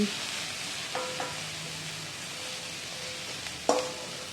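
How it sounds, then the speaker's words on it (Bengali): Cauliflower frying in oil with salt and turmeric sizzles steadily throughout, with occasional scraping stirs and a sharper clink near the end. "এখন এই নুন আর হলুদ দিয়ে ফুলকপিটা আমি খুব ভালো করে ভেজে নিচ্ছি"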